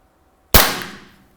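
A single sharp shot from a shooting-simulator training gun cracks out loud and close, with a quick broadband burst that decays over about a second into silence.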